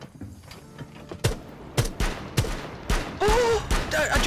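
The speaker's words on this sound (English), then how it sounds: "LMG mounted and loaded." A mounted light machine gun in Rainbow Six Siege fires sharp bursts of rapid gunfire in short volleys, several sustained rattling strings with mechanical clatter in between, close and loud.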